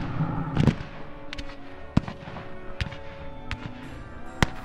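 French artillery cannon fire at the Battle of Quatre Bras, heard as several sharp, separate booms spaced irregularly over a steady low rumble of battle noise, one cluster near the start and isolated blasts after.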